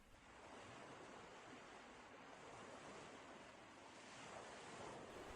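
Steady sea waves wash continuously in the background, a soft, even surf with some wind noise, with no voice over it.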